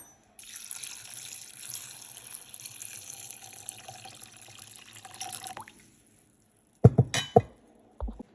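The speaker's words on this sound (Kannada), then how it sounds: "ಈಗ ಇದಕ್ಕೆ ಬೇಯಿಸ್ಕೊಳ್ಳೋದಕ್ಕೆ ನೀರು ಹಾಕ್ಕೊಳ್ಳೋಣ" Water pours steadily into soaked rajma seasoned with salt, bay leaf and fennel seeds for pressure cooking, a continuous close splashing stream that stops abruptly, followed by a few sharp clinks of a vessel.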